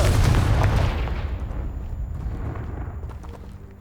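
A Confringo blasting spell from the Hogwarts Legacy video game goes off as one heavy, close boom with a deep low rumble, then fades into a long, decaying rumbling tail.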